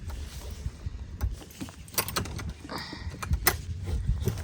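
A boat going into the water outdoors on a rainy day, heard as scattered clunks, knocks and rattling mechanical noises over a low rumbling background, moderately distant with no clear speech.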